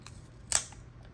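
A gritty Microtech OTF knife, treated with Remington oil, gives one sharp, close mechanical click as its blade snaps in or out, surrounded by a quiet background.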